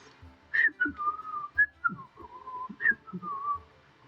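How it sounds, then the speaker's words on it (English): A person whistles a wandering tune, several short rising and falling notes with brief pauses, fairly close and clear. "I don't know if you guys could hear me whistling."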